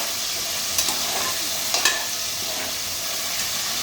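Onions and tomatoes sizzling steadily in a pan while a utensil stirs and scrapes a few times, close and fairly loud.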